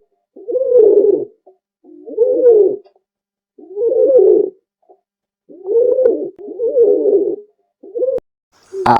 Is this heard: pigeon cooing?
yes